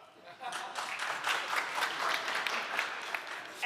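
Scattered clapping from a small audience, rising and then fading over a few seconds, fairly close.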